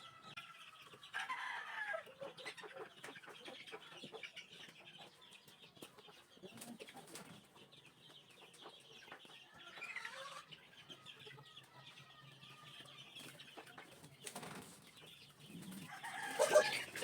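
Chicks and chickens being moved from a scratch pen to a fly pen, clucking and peeping softly and intermittently at a distance, with scattered faint rustles and a louder burst near the end.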